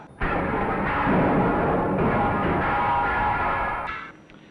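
A large electric motor, able to hurl a 4-pound missile at nearly 100 mph, fires with an abrupt onset followed by a broad roaring rush lasting a few seconds before dying away, loud and close.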